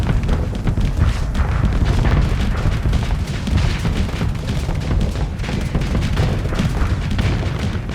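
Ship weapons firing nonstop in Starsector space combat, a dense, loud barrage of overlapping booms and thuds forming a continuous roar.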